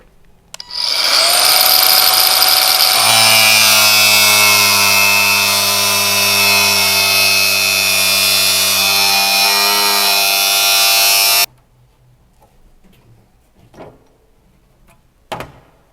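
A power tool cuts vent holes into a car body panel, one loud, steady, whining cut that runs for several seconds, then stops abruptly, leaving faint handling noises after.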